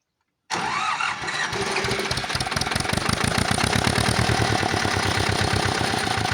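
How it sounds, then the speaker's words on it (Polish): An Ursus C-325 tractor engine with a muffler cranks briefly, then catches and settles into a loud, steady knocking idle, close by, with no voices. "Dobra i próbujemy go zapalić."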